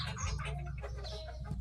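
A fighting cock rooster in a coop, with close, loud clucking and chicken calls over a low rumbling background, no talking.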